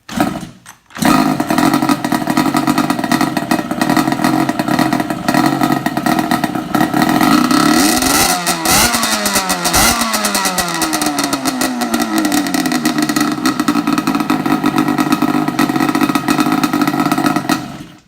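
A Banshee four-wheeler engine catches after a kick start and runs loud and close for the whole stretch, revving up and down midway before settling back to a steady roar.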